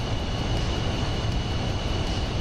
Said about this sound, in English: When you fire that engine up, woo boy.